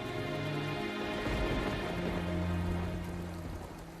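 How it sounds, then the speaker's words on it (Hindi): Steady rain falls outside, a soft continuous wash of drops pattering on surfaces at moderate distance, with a low rumble and faint tonal background underneath and no voices. "बाहर बारिश हो रही है।"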